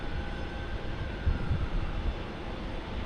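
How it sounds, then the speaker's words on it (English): An Embraer Legacy business jet at Dallas Love Field sounds as a steady, distant rumbling roar with a faint high whine, the low rumble swelling briefly midway, with no talk. "I think this is an Embraer Legacy"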